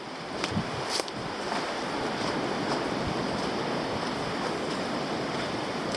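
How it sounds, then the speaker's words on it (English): A creek flows beside a hiking track in Tasmania, its steady rushing wash continuous and fairly close, with a few faint knocks from the walker early on. "Walking alongside a cute little creek here."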